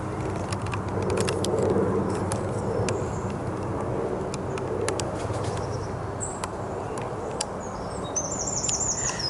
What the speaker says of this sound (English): listening to the birds, and in this beautiful environment